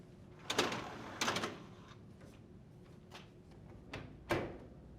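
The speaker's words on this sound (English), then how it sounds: "Open the door and remove the lower rack assembly." A GE dishwasher door is opened and the lower rack pulled out, giving a handful of sharp clacks and rattling knocks spaced irregularly over several seconds, close and fairly quiet in an otherwise still room.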